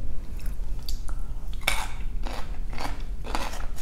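Cucumber kimchi being bitten and chewed up close, a crisp crunch followed by a few wet, rhythmic chewing bursts over a low background hum.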